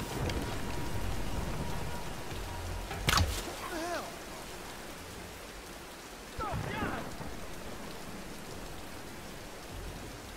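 Heavy rain pours steadily in the Tomb Raider video game's storm, with sharp thunder cracks and rumbles, loud and close, while brief voices sound faintly under the downpour.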